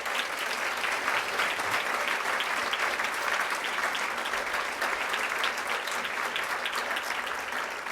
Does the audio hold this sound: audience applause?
yes